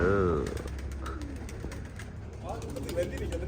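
Pigeons coo and flutter near a loft while someone speaks over them, with a low steady rumble underneath.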